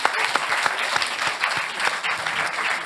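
Audience applause at an evening film-and-book event, a dense, steady wash of many hands clapping close by that continues for the full stretch without pause.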